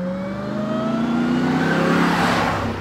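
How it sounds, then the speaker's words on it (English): Supercharged V8 of a Ram TRX pickup running loud and steady for a few seconds, with rising tonal whine bands over a broad engine roar and no talk. "I love the supercharger whine on this a lot better."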